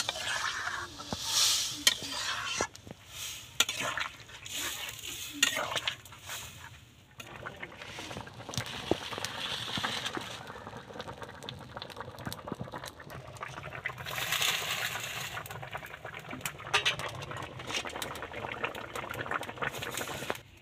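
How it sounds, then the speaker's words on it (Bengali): Chicken and dal curry boils in water in a pot, giving a soft, steady bubbling and popping with occasional clinks and stirring scrapes, close and fairly quiet, with no talk. "পরিমাণ মতন জল দিয়ে এটাকে 10 থেকে 15 মিনিট ফোটাতে হবে"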